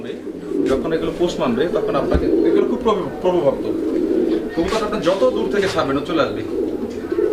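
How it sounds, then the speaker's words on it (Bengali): A pigeon coos repeatedly up close, soft throaty calls rising and falling in a steady rhythm. "দেখেন কত সুন্দর একটা কবুতর"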